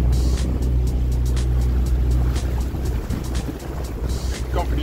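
A small sailing boat under way on open water, its steady hull, wind and water rush loud and close throughout with a low engine-like hum underneath, no talk.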